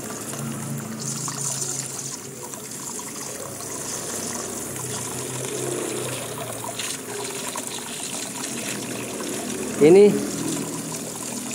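Water drains and trickles from an air compressor tank left undrained for four months, a steady watery flow under a spoken voice, with a brief louder spurt near the end.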